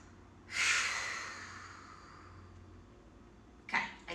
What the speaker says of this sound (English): Can we take one more breath here?